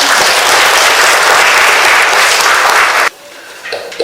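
At a Korean poetry book launch, an audience gives loud, dense applause to welcome a speaker. The applause fills the room for about three seconds, then cuts off sharply into quiet room noise.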